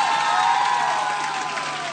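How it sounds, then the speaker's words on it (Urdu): Studio audience in a Pakistani television special transmission clapping and cheering in a steady, full wash of applause that eases slightly toward the end, with no speech over it. "ایک بار آپ سب لوگ اپنے لیے بہت ساری تالیاں بجا دیجئے"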